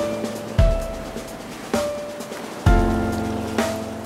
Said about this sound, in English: the wind and the waves are up just a little bit more than I'd like.